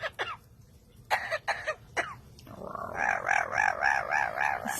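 A hill mynah (beo bird) mimics coughing with several sharp hacking bursts, then breaks into a rhythmic wavering crow-like call, close and moderately loud.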